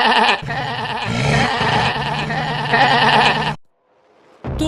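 Sheep bleat loudly and repeatedly as a wolf attacks the flock, a dense chorus of overlapping cries that stops abruptly, followed by near silence before a last burst.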